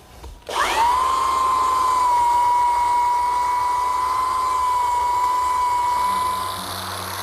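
A belt sander running an 80 grit belt over a butcher block, spinning up abruptly and holding a loud, steady high whine with a constant grinding hiss for several seconds before easing slightly at the end.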